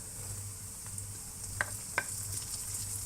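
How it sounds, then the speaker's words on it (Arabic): Onions and carrots fry in a pan for kabsa, a soft steady sizzle with a few sharp clicks of a utensil stirring and scraping against the pan, no voices. "بنقلب البصل لحديت ما يتدبل"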